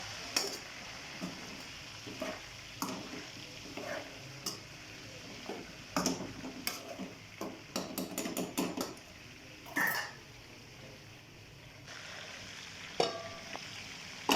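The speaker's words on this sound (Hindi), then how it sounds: "थोड़ा थोड़ा जो है ना इसको हिला लेंगे, ताकि जो है टमाटर जो है ना वो सही तरीके से पक जाए।" Tomatoes frying for a chicken karahi are stirred in the pan with a utensil, giving scattered clanks and scrapes over a steady low sizzle, close and moderately loud, with no talking.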